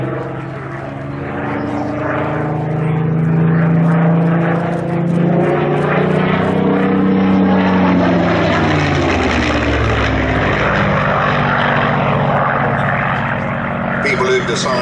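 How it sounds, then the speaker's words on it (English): A Spitfire PR XI propeller aircraft flies past at an air display at Shuttleworth, its piston engine a loud sustained drone that rises and shifts in pitch as it passes, with a commentator speaking over it. "This flight today is a tribute to Letty's Curtis"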